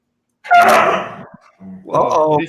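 Two dogs in a home squabble with each other in two loud, close bursts of barking and whining, separated by a short pause.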